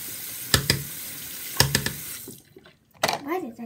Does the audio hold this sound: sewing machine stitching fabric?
no